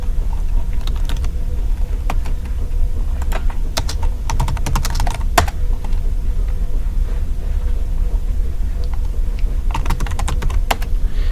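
Someone types a street address on a computer keyboard, with irregular bursts of clicky keystrokes in quick runs and pauses over a steady low room hum; close and clear, no talking.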